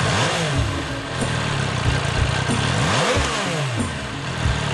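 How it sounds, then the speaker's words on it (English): A six-cylinder engine in a cafe racer motorcycle runs close by with a rough, throaty rumble that rises and falls in pitch through light revs, loud and continuous. "Despite the stronger snoring in the 6-cylinder engine"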